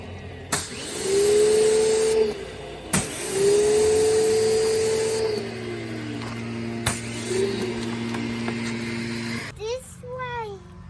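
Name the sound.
pressure washer spraying water on a Porsche GT3 RS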